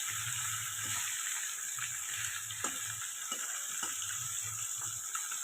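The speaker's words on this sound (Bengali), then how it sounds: "মাছ ভাজা হচ্ছে" Fish frying in a kadai, a steady sizzle of hot oil with occasional soft stirring clicks and scrapes, fairly quiet and close, no voices.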